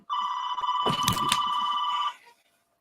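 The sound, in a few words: phone ringing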